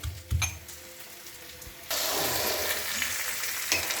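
Onions and potatoes frying in a pan, a soft sizzle with a few utensil knocks early on, then a louder, denser frying hiss that holds steady to the end.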